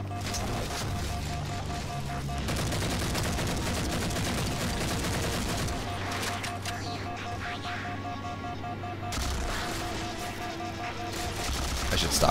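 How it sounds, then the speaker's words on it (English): Rapid automatic gunfire in the Halo 4 video game, sustained bursts layered with game effects and a tonal hum, dense and loud throughout, while a player talks over it. "I should stop shooting."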